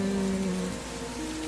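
Steady rain falls in a broad, even hiss, with a low sustained tone running underneath and no voices.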